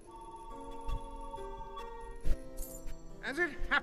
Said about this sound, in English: my phone keeps going off like crazy